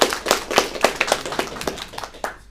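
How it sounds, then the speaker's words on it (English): Scattered audience applause at a Toastmasters meeting, a small crowd clapping in uneven bursts of sharp hand claps for about two seconds. "Let's have another round of applause for an icebreaker"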